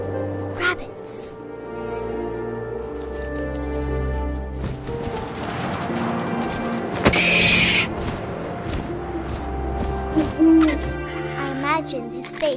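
An owl hoots in the video game What Remains of Edith Finch, with repeated hoots set against wind and ambient game sounds while a narrator talks.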